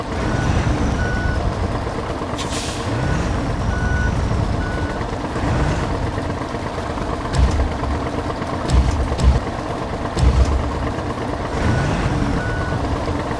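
Reversing beeps sound from a truck in SnowRunner, repeated evenly spaced tones over a steady, rumbling idling engine, with a few heavier mechanical thumps mixed in.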